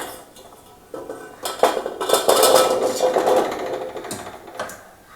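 Washed gooseberries (amla) tipped into a wide metal cooking vessel for pickle, a rapid rattle of hard round fruit clattering against the pot for a few seconds, close and fairly loud.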